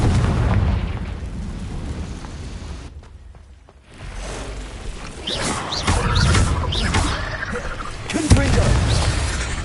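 Blasts from the Confringo fire spell in the video game Hogwarts Legacy: several booming bursts come in close succession after a brief lull, layered over busy combat sound effects.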